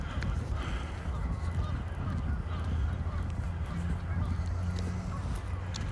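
Geese honk outdoors during a walk in Regina in early April, with several short nasal calls at middle distance, most clustered toward the end, over a steady outdoor rumble while a person talks nearby.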